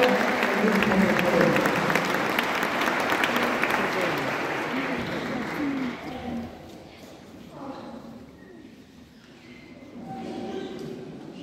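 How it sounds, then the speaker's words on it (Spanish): An audience at a Christmas concert in Tarata, Bolivia claps loudly for children as they enter, a dense steady applause that thins out midway and then swells again with some crowd murmur. "Un fuerte aplauso a los niños que entran."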